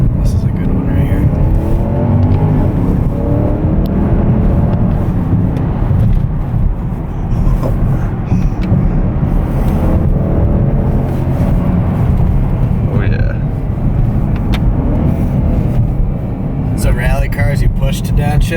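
A Porsche Panamera Turbo drives on slick roads, its engine droning steadily with road roar throughout while people talk almost continuously inside the cabin over it.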